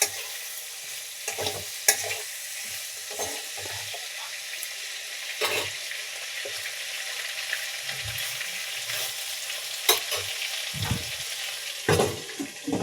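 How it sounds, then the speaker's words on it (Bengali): Prawns fry with a steady background sizzle in a pan while a spatula presses and stirs them, giving irregular scraping knocks every second or two, close and moderately loud, with no talking. "চাপা দিয়ে দিয়ে ভাজতে হবে।"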